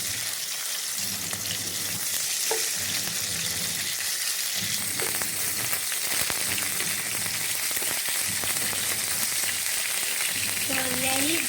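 Prawns fry in a pan for a Malaysian sambal udang, a steady close crackling sizzle running throughout while a voice talks intermittently underneath.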